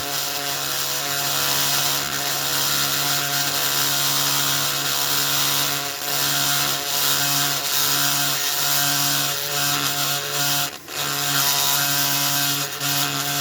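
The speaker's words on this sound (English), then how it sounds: "You get your Dremel and just gently work your way around." A Dremel rotary tool grinding on the base plate of a diecast model car, a loud continuous high-pitched buzz holding steady for the whole stretch with only a brief dip near the end.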